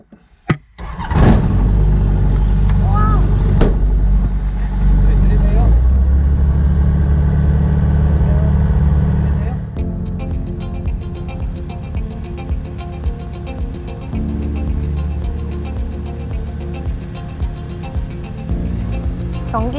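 Light aircraft engine cranking and catching, then running at a loud steady roar before settling into a quieter idle, heard close up with a brief voice near the start.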